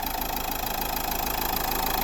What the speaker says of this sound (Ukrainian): Ось е, робота двигуна